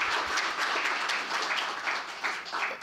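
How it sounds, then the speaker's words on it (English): An audience applauding after a talk on unconscious bias and stereotypes, a dense, steady round of many hands clapping at moderate volume throughout. "A very worthy round of applause."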